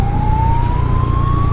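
A police car siren wails steadily and loudly, its tone rising slowly, over the rush of a motorcycle riding on the road.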